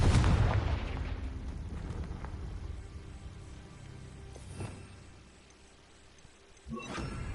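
The Confringo blasting spell goes off in a Harry Potter video game: a loud, close explosion with a heavy burst that rolls into a long, rumbling decay, then a second sharp blast near the end.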